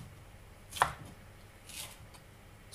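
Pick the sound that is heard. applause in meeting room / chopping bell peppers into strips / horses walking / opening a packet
chopping bell peppers into strips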